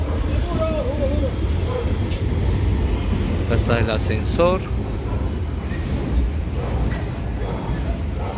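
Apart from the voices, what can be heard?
Lima Metro Line 1 train passing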